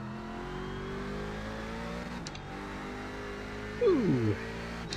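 Corvette C7 race car engine in iRacing, a steady engine drone that holds constant before a quick rising rev and gear change near the end, close and continuous.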